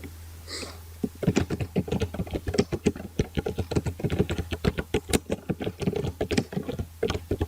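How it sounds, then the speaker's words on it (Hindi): Typing a folder name on a computer keyboard for an ASP.NET project, a long, fast, even run of sharp, close key clicks lasting several seconds, with no one speaking. "तो यहाँ पे मैं नाम अपने फोल्डर का नेम लिख देता हूँ।"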